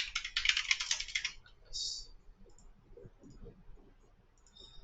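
Keyboard typing while entering button text in a web design template, a quick burst of clustered key clicks at the start, then a few lighter taps, fairly close and soft with faint background noise.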